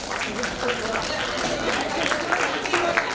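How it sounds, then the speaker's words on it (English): Audience at a panel discussion session applauding together, a dense patter of many hands clapping at moderate volume for about three seconds over a crowd murmur. "Can you clap?"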